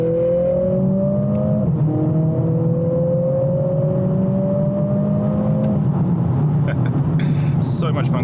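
A Mercedes CLA45s AMG accelerates hard through its gears using paddle shifters, its engine climbing in pitch with sharp drops at each quick upshift, heard loud from inside the cabin and then easing off at the end.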